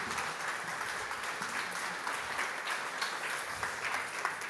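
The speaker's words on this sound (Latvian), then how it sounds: "Ar aplausiem Māra no Schneider Electric un Gembas." Applause at a workplace safety conference, an even wash of clapping from the audience at moderate level without speech.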